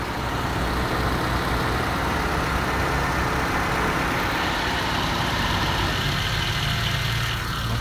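An older-model Nissan Sentra idling with a Sanden 507 multi-groove AC compressor engaged, a steady, close, dense engine drone with an even mechanical hum, no voices.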